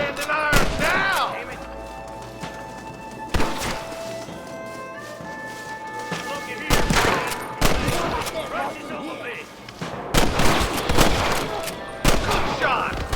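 Repeated gunshots in the Red Dead Redemption western game, loud sharp cracks in irregular clusters, some close together like volleys, over ambient game sound with occasional voices.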